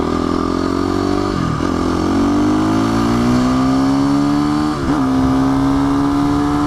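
A sport motorcycle rides close ahead, its engine droning loud and steady with a rising whine as it accelerates and eases off twice, mixed with other engine noise on the road.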